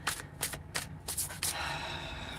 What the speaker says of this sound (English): I don't know why it told me to stop shuffling when it's not time yet.